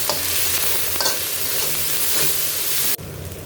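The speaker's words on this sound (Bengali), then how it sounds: "2 চামচ আদা বাটা এবং 2 চামচ রসুন বাটা দিয়ে আমি মশলাটাকে ভালো করে কষিয়ে নেব" Ground spice paste of cumin, ginger and garlic frying in a pan: a dense, loud, close hiss that cuts down sharply near the end to a quieter sizzle.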